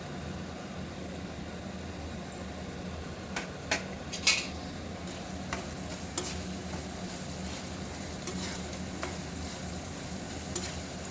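Peanuts and ginger fry in hot oil for tamarind rice, a soft continuous sizzle with a spoon stirring and a few sharp clinks against the pan partway through, no talking.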